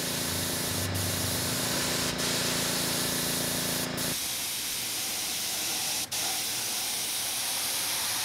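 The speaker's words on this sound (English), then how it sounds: "Just get the overspray on it." A paint spray gun lays overspray onto a model airplane with a loud, continuous close hiss, while a low hum underneath stops about halfway through; there is no speech.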